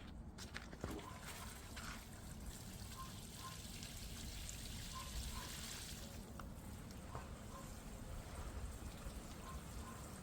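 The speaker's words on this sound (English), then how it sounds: "all that's left now is to give it a liberal watering." Newly planted garden plants get a generous watering, heard as a soft continuous pour and trickle of water onto soil and leaves, faint and steady, with outdoor ambience and occasional bird chirps.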